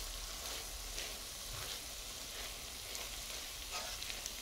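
Bamboo shoot adobo with tuna flakes sizzles and fries in a pan as it is stirred, a steady, soft crackling hiss with faint scraping, close by and with no talking.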